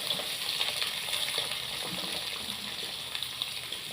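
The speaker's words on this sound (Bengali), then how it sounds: "তেলটা হয়ে গেছে, এবার এর মধ্যে দেবো পটলগুলো দিয়ে দিলাম।" Pointed gourd (potol) pieces fry in hot oil, giving a steady, close, bright hiss and crackle of sizzling with small pops, with no voices.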